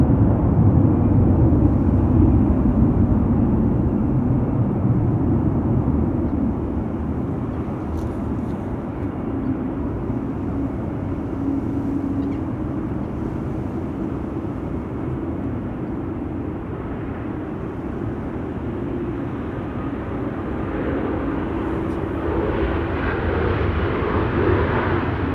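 Airliner at Amsterdam Schiphol Airport, a steady loud engine roar rumbling continuously for the whole stretch with no talk over it.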